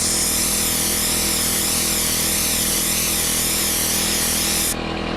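A mini sand blaster blasting a rusty area gives a loud, steady, broadband hiss of rushing air and grit that runs unbroken, then eases slightly just before the end.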